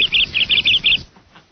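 A quick run of bright, high bird chirps, about five rapid bursts in a row, then they stop and only a faint hush remains.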